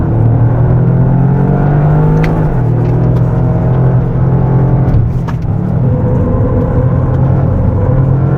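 A 2024 Toyota GR Yaris being driven on a race track in track mode, its engine holding a loud, steady drone near the microphone with small shifts in pitch, no voices over it.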